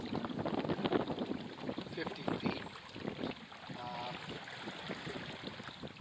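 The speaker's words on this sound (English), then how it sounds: "the wind's fluky as hell" Gusty, fluky wind rushes steadily across a sailboat tacking close to shore in a narrow channel. The close wind roar continues throughout, with speech mixed in.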